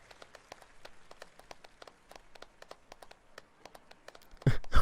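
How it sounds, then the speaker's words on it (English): Sparse, scattered clapping from only a few hands in a Red Dead Redemption 2 Saint Denis theater show patters unevenly for several seconds, soft and thin, before a louder burst of noise at the end. "We're the only ones clapping."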